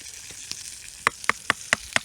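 Sausage and bacon fry in a pan over a campfire, giving a soft steady sizzle broken by a quick run of sharp crackles and pops close by.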